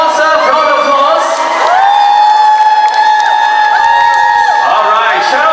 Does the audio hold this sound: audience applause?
yes